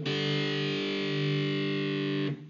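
Electric guitar played through a Boss BR-800 multi-effects unit, a single thick, distorted low note sustained loud and close for about two seconds before cutting off, with no talking.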